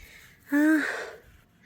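One heavy, voiced breath after walking, a single close gasping exhale that rises quickly and then trails off in a quiet room.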